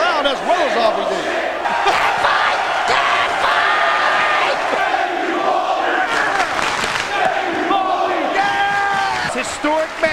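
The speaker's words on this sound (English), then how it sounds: "This hostile crowd" Hostile wrestling audience at ECW One Night Stand chanting and roaring continuously, a dense wall of massed voices with shouts and whoops throughout, loud and sustained.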